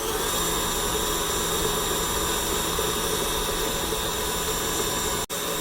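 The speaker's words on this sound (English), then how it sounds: "We're going to turn our mixer back on, and we're going to let it beat some more." An electric stand mixer creaming buttermilk pound cake batter runs as a steady, fairly loud whir that holds unchanged throughout, with one brief dropout near the end.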